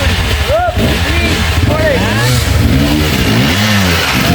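A motorcycle engine revving loudly and unevenly on a trail ride, its pitch rising and falling in swoops, with people talking and calling out over it.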